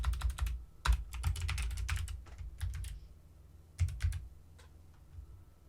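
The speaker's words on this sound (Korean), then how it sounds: "비밀번호도 입력해 주세요" Password being typed on a computer keyboard: quick bursts of crisp key clicks with brief pauses, close and clear, no talking.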